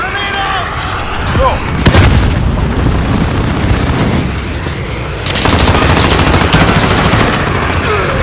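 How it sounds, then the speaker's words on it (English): Grenade blast in Call of Duty: Modern Warfare, a loud broadband boom bursting in amid continuous game gunfire and battle noise, with shouted voices over the combat. "Grenade out!"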